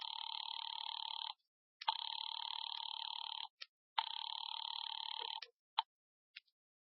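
An old-style 1940s telephone bell rings in long bursts, two sustained rings separated by a short pause, followed by a few brief clipped chimes as it stops.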